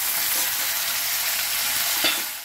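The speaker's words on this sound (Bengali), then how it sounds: "এখন আমি সব সবজি দিয়ে দেব।" Vegetables frying together with onions in a hot pan, giving a steady, dense sizzle with light stirring throughout and a brief louder scrape near the end.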